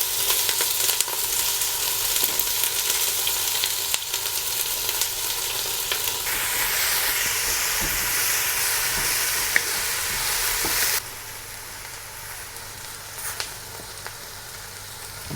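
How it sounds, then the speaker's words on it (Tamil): Onions frying in hot oil in a pan for a fish curry give a steady, loud sizzle throughout, with stirring noise, dropping to a quieter sizzle for the final few seconds. "வெங்காயத்தை ஃபஸ்ட்டு போடுவோம்."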